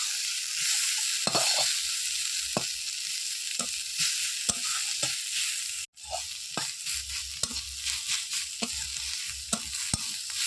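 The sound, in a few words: shrimp heads frying and being stirred in a pan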